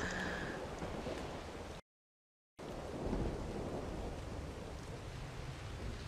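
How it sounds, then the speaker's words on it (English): Steady rain pours throughout in Ark: Survival Evolved on Xbox One, with deep rolling thunder rumbling beneath it, broken by a brief moment of total silence partway through. "Why is it raining?"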